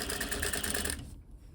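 A sewing machine runs steadily, stitching a 1.5-inch triple-folded bottom hem on a ripplefold drapery side panel, a close, even whirring rattle for about a second before it stops and falls quiet.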